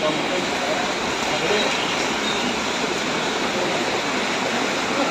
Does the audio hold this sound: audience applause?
no